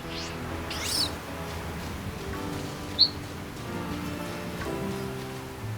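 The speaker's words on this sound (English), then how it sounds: "It's raining, it's pouring" Steady rain patters over a low hum of game ambience in Pokémon Violet, with a brief high bird chirp partway through.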